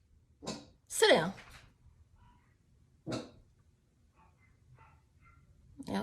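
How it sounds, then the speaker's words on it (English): A dog barks in a few sharp bursts, one loud and close, with quieter barks a couple of seconds apart against a quiet room. "Now the other dog is barking."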